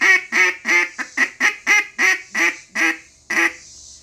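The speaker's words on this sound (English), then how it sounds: "You do need to get a quack going good" A duck call is blown through a greeting call: a descending series of about eleven nasal quacks, close and loud, evenly spaced and growing slightly shorter toward the end.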